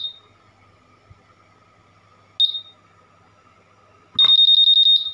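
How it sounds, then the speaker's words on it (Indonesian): A couple of short electronic chirps, then a loud, rapid pulsing alarm tone from a Honda Vario 150 motorcycle's anti-theft alarm starts up near the end, repeating in quick even beeps. "Sekarang kita coba dulu fungsi dari alarm."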